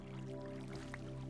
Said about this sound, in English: But I hear the water.